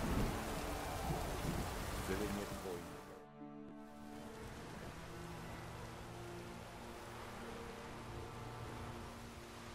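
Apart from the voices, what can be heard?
rain and thunder in video game The Witcher 3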